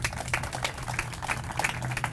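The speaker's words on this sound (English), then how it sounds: "So I'd like to give them a round of applause as well." An outdoor crowd at a park rededication gives city staff a round of applause, steady moderate clapping over a low hum.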